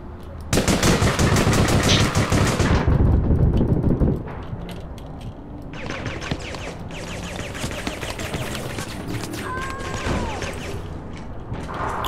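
Rapid automatic gunfire shooting through a fence in the video game APB: Reloaded, a dense loud burst for a few seconds, then quieter mechanical clatter and scattered shots with a faint whistle-like tone.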